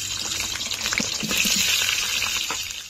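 Potatoes fry and sizzle in hot oil in a kadai for a Bengali egg and potato curry, a steady close crackling hiss with scattered pops and brief stirring scrapes, with no voices.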